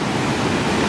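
Ocean surf washing up on a beach in Puerto Rico, a steady close broadband wash of breaking water filling the whole short moment without a break, with no voices.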